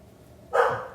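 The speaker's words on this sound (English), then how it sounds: "Sorry, that's my dog." A single short bark from a pet dog in another room rings out once, moderately loud against a quiet background.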